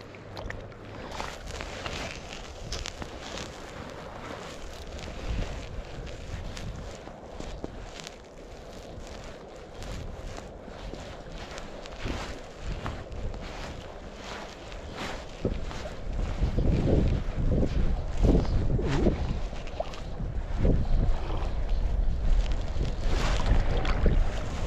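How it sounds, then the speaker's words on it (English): Wind blowing across Strawberry Reservoir on a late fall day while fly fishing from a boat, a continuous rough rumble and buffeting that swells louder in the second half, with no voices. "since the wind's blowing us that way"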